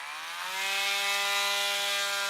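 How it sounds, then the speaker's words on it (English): A power drill bores into a broken plastic toy where a piece snapped off, a steady rising whine that grows louder after a brief start and holds alone without talk. "So what we'll do is we'll drill a hole"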